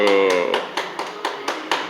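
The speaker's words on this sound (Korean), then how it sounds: "와, 박수" Hands clap in quick, regular bursts, about six crisp claps following a sustained voice at the start, close and fairly loud.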